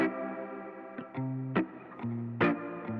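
An electric guitar played through an amp's built-in spring reverb gives sustained, distorted chords with sharp plucked attacks and a lingering, springy wash of echo between strums.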